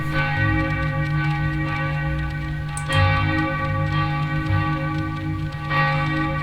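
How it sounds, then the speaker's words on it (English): A church bell rings in a modded Morrowind game, with sustained, resonant tolls and overlapping hum, several fresh strikes standing out as the ringing carries on steadily. "I got interrupted by a bell"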